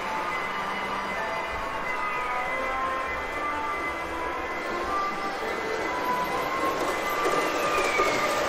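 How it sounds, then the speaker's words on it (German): A Märklin H0 model Taurus locomotive plays its start-up sound from a hidden staging yard, a steady electric whine with rising and falling tonal sweeps under a constant rolling hum, fairly loud and without talk. "Nun ist der typische Taurus-Anfahrsound aus dem Schattenbahnhof zu hören."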